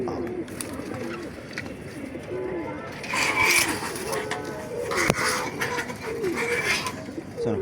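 A pigeon held in the hand coos in soft, repeated throaty bursts, with rustling and handling noise rising midway, close up.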